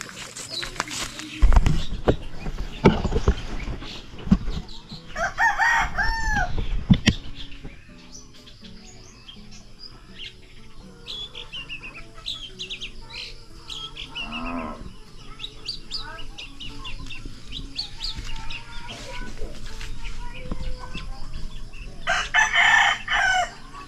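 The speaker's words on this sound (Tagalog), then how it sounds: "Ganda nung huni ng ibon" Outdoor birdsong on a farm with a rooster crowing loudly nearby, mixed with chirps and calls, plus some handling rustle and faint farm sounds in the background.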